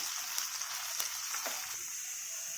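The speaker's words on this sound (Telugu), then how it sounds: "కరివేపాకు, శనగపప్పు వేసుకొని ఆయిల్లో ఫ్రై చేసుకోవాలి." Curry leaves and chana dal fry in hot oil for a bhindi fry, giving a steady, bright sizzle with occasional soft pops, close and uninterrupted.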